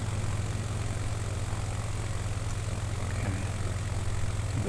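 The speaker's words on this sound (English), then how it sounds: "Cut the engine some more." Small propeller aircraft engine in Microsoft Flight Simulator 2020 on a Nevada bush trip, a steady, even drone held at constant loudness throughout with a low throbbing hum and no voices.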